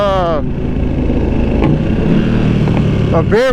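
A 2020 Ducati V2 motorcycle engine rumbles steadily underneath while riding, loud and close, with someone talking over it at the start and end.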